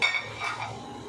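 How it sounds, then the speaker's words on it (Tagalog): A spoon stirs ginataang santol, a coconut-milk dish, in a cooking pot, giving a short metallic scrape and clink up close, brief and fairly clear. "Haluin lang para hindi makurta."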